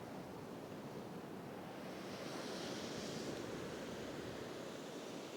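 Steady ocean surf breaking continuously, a broad wash of waves and spray with wind noise over the microphone, no voices.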